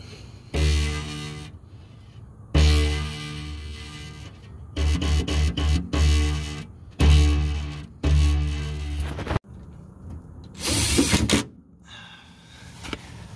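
A self-tapping sheet metal screw is driven with a power tool on an early-model Corvair, in several loud, close bursts of whirring and grinding separated by short pauses, with no talking.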